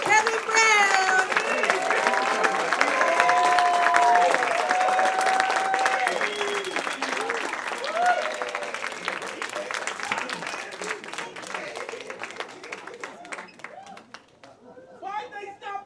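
An awards ceremony audience claps loudly and continuously, with scattered cheers and voices mixed in, and the applause gradually thins and fades toward the end.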